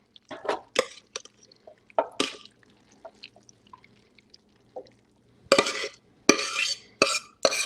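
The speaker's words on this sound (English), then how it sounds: "we're just going to pour it right into the casserole dish." Mac and cheese is poured into a casserole dish, heard as wet, sticky plops and scraping clinks of a pan and spoon against the dish, arriving in irregular bursts with quiet gaps between.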